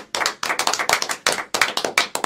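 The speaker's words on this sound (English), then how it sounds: "Ihr könnt euch auch selber applaudieren wie in Amerika" A small studio audience at a Radio Z concert session claps in uneven bursts. The sharp hand claps sound close, stopping and starting several times.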